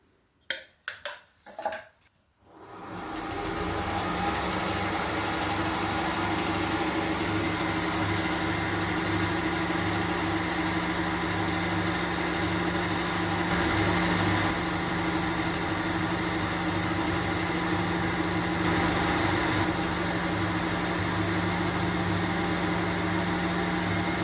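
A 3.3mm drill bores through aluminium while machining a custom insert holder, a steady loud motor whine with a hum running unbroken after a few brief knocks at the start.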